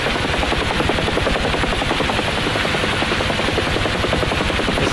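Rotor and turbine of a UH-1H Huey helicopter in the DCS World flight simulator, a loud, steady rhythmic whop of blades over a constant engine roar, running alone without pause.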